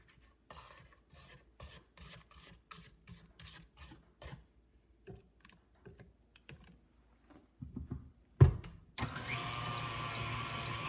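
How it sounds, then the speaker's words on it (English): A spatula scrapes around the sides of a mixing bowl of meringue for a chocolate meringue pie in a rapid series of short, soft rasping strokes, then a few slower scrapes, a clunk and a burst of mixer noise. "I just want to scrape the sides of the bowl."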